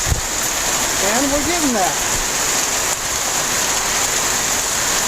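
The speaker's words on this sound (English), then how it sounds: "It was a good soaking, a nice good long rain." Heavy, steady rain pours down during a thunderstorm as a continuous loud wash of falling water, with someone talking briefly over it early on.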